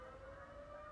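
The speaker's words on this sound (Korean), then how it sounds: "경찰차가 막 지나가네" A police car siren wails steadily in the distance, a faint sustained tone that holds without pause.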